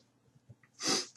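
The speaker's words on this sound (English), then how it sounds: "when you gotta sneeze, you gotta sneeze" A single sharp sneeze near the end of a quiet moment, preceded by a few soft breaths.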